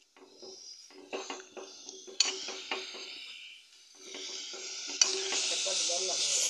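Masala frying in a pan for a Malvani fish dish, stirred with a spoon: clattering scrapes and taps against the pan over a soft sizzle, pausing briefly midway before the frying grows louder.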